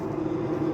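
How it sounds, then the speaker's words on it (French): An airplane passes overhead above a walker crossing the Spanish Meseta, a steady, moderately loud droning hum with a faint rumble. No one speaks. "vous entendez le bruit de l'avion"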